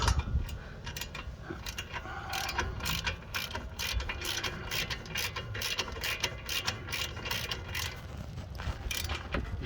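A hand ratchet clicks in quick, steady bursts close up while loosening a brake bolt on a 2016 Mazda CX-5, the pawl ticking rapidly with no talk.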